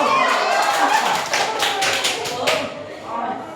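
A classroom of eighth-grade students claps together in a busy, uneven patter, close and fairly loud, with chatter running underneath before it tapers off.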